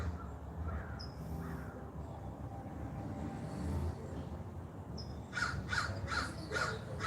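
A crow caws outdoors, a few faint calls early on and then a run of four or five harsh, evenly spaced caws near the end over a low background rumble.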